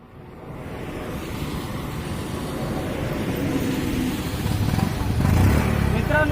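Close by, a motorcycle started without kick, self-starter or a push fires up, its engine hum rising from near silence into a steadily louder, rougher drone that peaks near the end.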